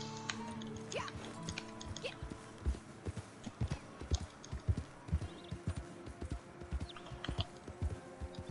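Horse hooves clop in a steady irregular rhythm in Red Dead Online, near and fairly loud, with background game ambience and occasional voice.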